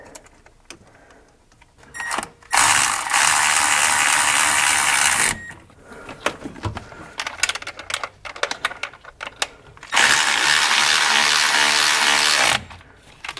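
A ratchet tightens bolts on the spacer of an HVLP diesel lift pump with two long bursts of rapid, loud clicking, separated by softer metallic fiddling and taps close by.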